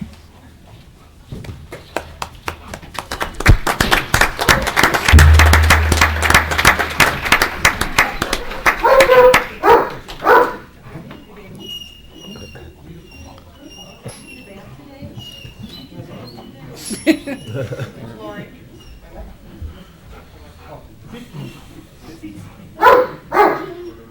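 Police K9 dog with the county sheriff's office barking during a county commissioners' meeting, several sharp barks cutting through applause and room chatter, with people talking nearby.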